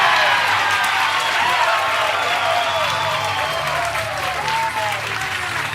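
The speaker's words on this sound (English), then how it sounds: "Big crowd applause on that one from Missy." Steady, loud crowd applause and cheering in a bowling arena during a professional women's bowling match, continuous throughout with whistles and voices mixed in.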